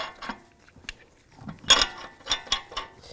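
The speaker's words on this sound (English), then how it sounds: "Install the front wheels. Put the lug nuts on." Lug nuts go onto the front wheels of a 2010-2017 Chevrolet Equinox with a series of close metallic clicks and ratcheting taps, irregular and quiet at first, then a sharper cluster of clicks.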